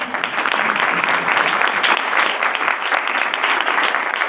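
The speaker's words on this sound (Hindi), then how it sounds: "रिबका के लिए जोर से ताली बजाओ" A church congregation claps loudly and continuously, dense steady applause filling the room throughout.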